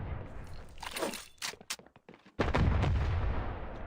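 Grenade blast in the mobile shooter Standoff 2 during a competitive match: a loud sudden burst of noise that lingers as a rumbling roar, after scattered clicks and short gunshot-like cracks.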